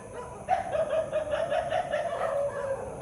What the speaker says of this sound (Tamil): நாய் ரொம்ப குலைக்குது.